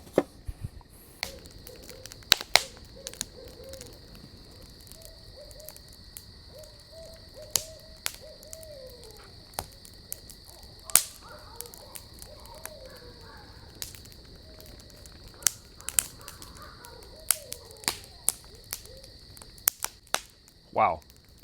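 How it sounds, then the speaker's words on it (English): Several owls hooting at a distance, repeated low calls trading back and forth over a steady chorus of crickets, with occasional sharp clicks and pops. "I'm pretty sure I heard a 4th owl, all just hooting over there."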